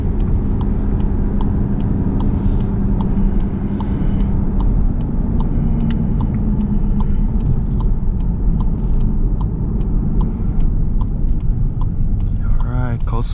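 A tuned car with an Integrated Engineering Stage 1 tune drives steadily and swings through a U-turn, its engine a constant near rumble with faint regular ticking throughout, with a brief rising whine near the end.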